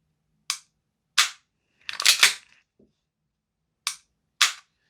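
A Tokyo Marui 1911-style airsoft pistol fires sharp, loud pops: two single shots, a rapid cluster of three, then two more spaced shots, each cracking alone against near silence.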